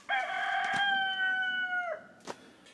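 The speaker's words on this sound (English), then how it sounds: "the old school rooster is back" A rooster crows once, loud and close, in a long, sustained cock-a-doodle-doo that drops off at the end, followed by a brief sharp knock.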